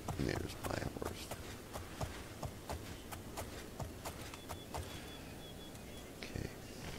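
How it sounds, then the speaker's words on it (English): Horse hooves clip-clop in the video game Elder Scrolls IV: Oblivion, a steady even stride of sharp clacks over several seconds at moderate volume with a faint background hum. "There's my horse."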